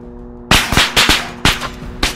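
Gunfire in Arma 3 on the Stratis map, a rapid series of about six loud, close shots in quick irregular succession, each with a short echoing tail, no voices over them.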